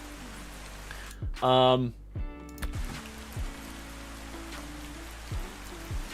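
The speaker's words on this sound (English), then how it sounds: "Why would it start raining when I'm just trying to show this off?" Steady rain falling in a medieval castle setting of a video game, a constant soft hiss beneath someone talking, with brief synthesized tones and clicks.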